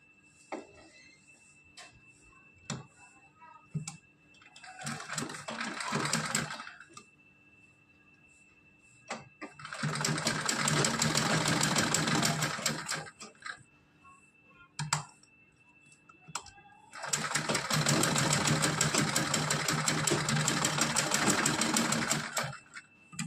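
A sewing machine stitching fabric for a small designer outfit, running in three bursts of fast rattling needle chatter, each lasting a few seconds and separated by quiet pauses with faint handling clicks, close and alone.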